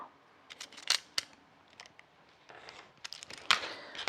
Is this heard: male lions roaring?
no